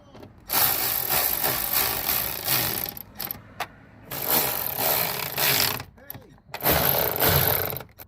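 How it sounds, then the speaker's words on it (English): A power tool tightens bolts on custom retrofit tail lights for an Infiniti G37/G35 sedan, running in three loud, sustained bursts separated by short pauses and brief clicks, close up. "now let's tighten the bolts"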